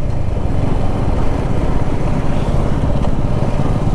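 Motorbike engines on a dusty hill road near Kathmandu, Nepal, a loud continuous rumble and drone that never lets up, no talk.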